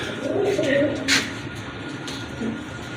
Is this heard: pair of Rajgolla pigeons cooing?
yes